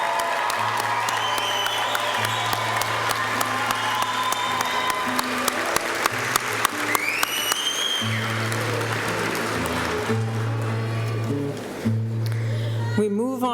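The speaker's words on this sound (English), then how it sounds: "Let's give a round of applause for our nursing graduates." At a college graduation ceremony, steady applause and scattered cheers for nursing graduates fill a hall, continuous clapping under a low hum, with voices heard through it.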